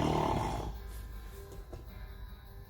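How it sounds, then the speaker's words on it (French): Snoring from children lying down for a nap during a kindergarten class at home, a low rasping breath sound that starts moderately loud and fades within the first second, then quiet room tone. "Qui ronfle?"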